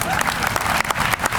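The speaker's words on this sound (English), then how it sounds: "let's give our speakers another round of applause" At a groundbreaking event, an audience breaks into dense, steady applause, with clapping filling the short moment from start to end.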